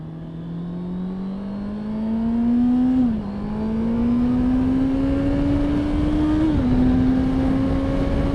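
A motorbike engine drones loud and close as it accelerates, its pitch climbing steadily with two quick drops at gear changes before rising again.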